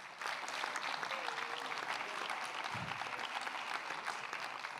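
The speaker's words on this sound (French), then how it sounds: "on peut l'applaudir bien fort" A conference audience at a national elder-care congress claps steadily and fairly densely throughout, a continuous wash of applause with a brief low thump partway through.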